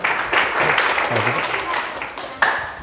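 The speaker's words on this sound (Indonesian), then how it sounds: "Tepuk tangan untuk Mbak Maya" An audience at a university teaching event claps for a presenter, a short burst of applause that surges, eases and swells again briefly.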